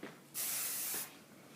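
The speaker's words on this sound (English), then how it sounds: "Spray that, keep the bump into place." Hairspray spritzed onto a cheer hairstyle to hold a bump in place, one steady close hiss lasting under a second, with no talk over it.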